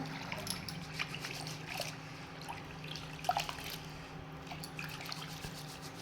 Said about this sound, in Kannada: ಈ ಒಂದು ಸಲ ನೀರು ಚೆಲ್ಕೊಂಡ್ಬಂದಿದ್ದೀನಿ ಮತ್ತು ನೀರು ಹಾಕೋತಾ ಇದ್ದೀನಿ